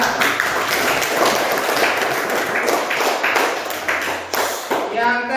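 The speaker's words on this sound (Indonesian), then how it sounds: "Bagus, tepuk tangan." Students in a classroom clap together, a close, uneven patter of many hands that runs steadily, thins briefly, then picks up again before a faint voice enters at the end.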